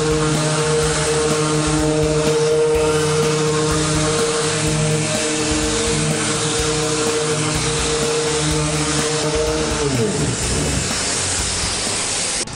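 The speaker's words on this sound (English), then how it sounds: "I'll first sand this panel" A power sander works over a car body panel with a loud, continuous droning whir and a rough grinding texture, its pitch shifting slightly near the end, with no talking.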